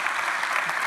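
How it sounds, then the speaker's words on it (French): Brief burst of audience applause at an award ceremony for a mapping competition, a dense, even wash of many hands clapping at moderate loudness with no pauses. "Applaudissez-le"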